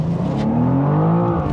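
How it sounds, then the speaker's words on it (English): A BMW M2's 3-liter twin-turbo inline-six engine and exhaust hum steadily from inside the car, a smooth rising tone building gently over a brief stretch. "The sound of that 3-liter twin-turbo inline-six"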